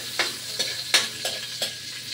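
Garlic sautéing in a pan for fresh pancit with chorizo de Bilbao, a soft steady sizzle broken by several crisp stirring scrapes at close range, with no one speaking.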